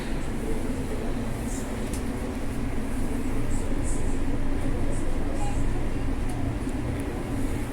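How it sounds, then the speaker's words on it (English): Continuous low rumble of a Mandurah Line train pulling in at a station platform, steady and fairly loud throughout, with faint squeals and clatter on top. "The train is coming in onto the other platform now"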